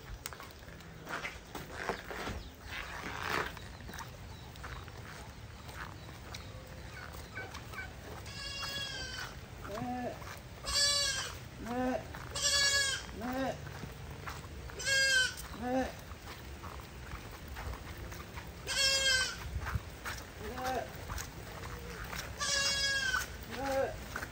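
Several goats bleat in bursts of wavering cries, some near and loud, others fainter, over low rustling and shuffling in the background.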